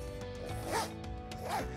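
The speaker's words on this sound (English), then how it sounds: "The zippers are quite smooth." Zipper on a waterproof ViaTerra Claw motorcycle tail bag pulled open in two smooth, quick rasping strokes, close and fairly quiet, with no talking.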